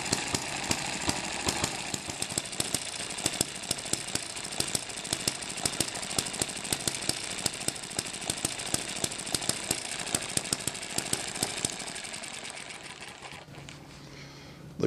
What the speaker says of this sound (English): The governor mechanism on this engine controls the speed very nicely, and so far it seems to be pretty easy to start.